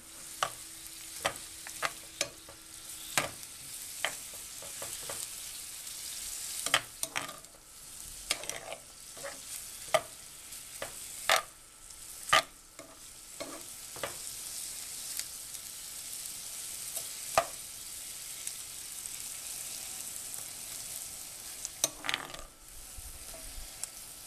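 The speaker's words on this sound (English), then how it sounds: "So we're stirring that in, and I'm breaking a few of them because it's still frozen. And heat is still on high." Frozen seafood, crab meat and shrimp, stir-fried in a pan on high heat: a steady sizzle runs throughout while a utensil scrapes and clacks against the pan in irregular sharp knocks, close and clear, with no talking.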